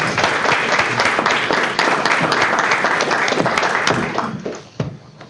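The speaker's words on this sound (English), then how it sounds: "Give them a big round of applause" Board meeting audience applauding honorees with a big round of applause, fairly close individual claps in a brisk dense patter that tapers off in the last second.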